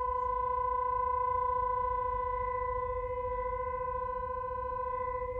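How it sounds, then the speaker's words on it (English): An industrial site alarm sounds during a test, a steady, unwavering electronic tone with strong harmonics holding for the full length, heard from a distance over a low rumble of truck engine noise. "where I also find out that those alarms were a test"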